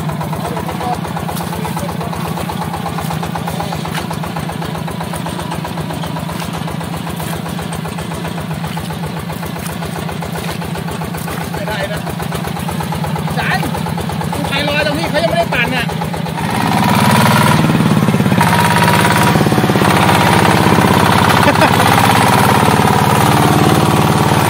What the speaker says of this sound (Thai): เครื่องยันมา160ตัวใหม่